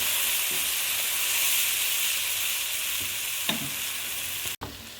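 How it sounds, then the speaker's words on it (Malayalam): Tomato masala sizzles and fries in a hot pan while being stirred, a steady bright hiss with occasional scraping stirs and a brief clatter near the end, no talking. "ആ തക്കാളി മസാലക്കൂട്ട് ഇതിലേക്ക് ഇട്ട് കൊടുക്കുകയാണ്."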